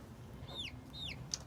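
Chickens on a small homestead flock give two faint, high, downward-sliding calls in quick succession, followed by a brief click, over a low background murmur with no talking.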